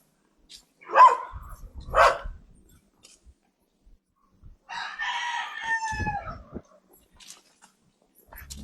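Two short loud bird calls near the start, then a longer harmonic crowing-like call in the middle; rooster and meat chickens in a quiet yard on a rural property in Alfonso, Cavite, Philippines.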